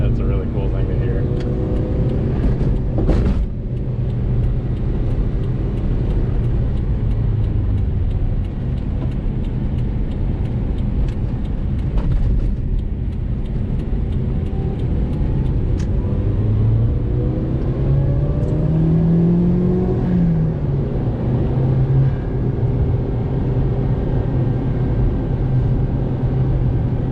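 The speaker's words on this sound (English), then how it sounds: "you can hear that turbo blow off every time I let off the throttle" A 1994 Mitsubishi Bravo GT turbo 4WD van drives along with a steady, loud engine drone and road rumble, its pitch rising and falling as it accelerates and lifts off the throttle, while someone talks over it.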